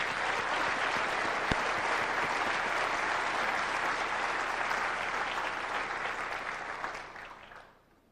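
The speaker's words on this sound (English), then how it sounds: "So we should give him a round of applause" An audience at a computer science and software engineering lecture gives a dense, steady round of applause that holds for several seconds and then fades out near the end.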